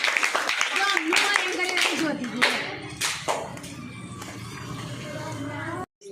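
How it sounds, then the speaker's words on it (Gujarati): A group of students in a school quiz competition claps together after a correct answer, a brisk burst of many hands that fades toward the end, mixed with a teacher's voice. "તાળી પાડો ભાઈ બધા."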